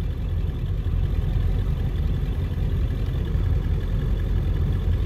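A Ford 7.3L Powerstroke diesel idles with a low, steady rumble and a faint clatter, heard close and unbroken with no talking.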